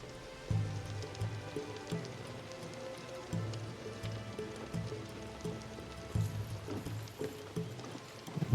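Steady rain patters across the ground in Assassin's Creed Shadows, a soft, continuous hiss with scattered drop taps. Faint low tones and a few muffled knocks run beneath it.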